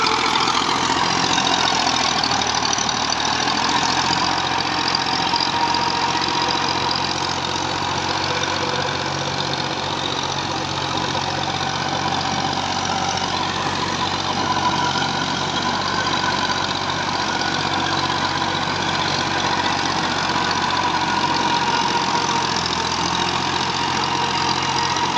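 A model 240 tractor drives a large 54-blade rotavator cutter through a waterlogged field, its engine running in a loud steady drone that never lets up, with no voices.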